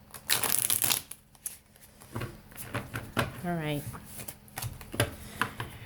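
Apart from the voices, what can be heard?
shuffling tarot cards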